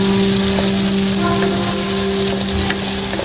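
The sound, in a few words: onions frying in a pan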